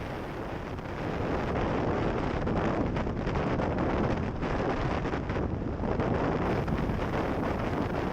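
Wind rushes loud and unbroken across the microphone as riders go fast on gravel bikes, a dense roaring buffet that fills the whole clip with no talking.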